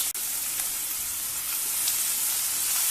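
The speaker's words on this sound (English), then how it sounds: "Add in some finely chopped onions and some finely chopped capsicum." Finely chopped onions and capsicum fry in heated extra virgin olive oil, giving a steady, bright sizzle that stays loud and even for a few seconds with no talking.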